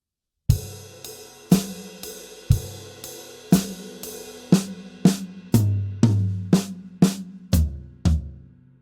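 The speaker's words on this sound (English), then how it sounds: "So you can hear that hi-hat foot continuing throughout there." A steady drum groove with crashes and kick hits repeating at an even pace, a soft hi-hat pedal chick keeping time underneath, played close and alone.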